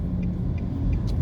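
Car driving through a residential neighborhood in Kingston, Jamaica, with a steady low engine and road rumble and faint, evenly spaced higher ticks, heard close and alone.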